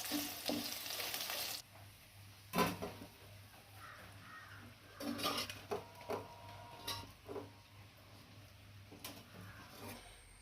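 Chopped okra sautéing in hot oil in a pan, cooked down to remove its sliminess for a masala curry. A steady sizzle runs throughout, broken by several louder scraping bursts as the pieces are stirred, with no talking.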